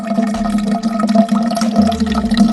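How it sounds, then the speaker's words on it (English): Liquid Ice drain cleaner is poured into a small jar, a loud close splashing trickle running steadily over a low, humming background tone. "Pour some liquid ice in here."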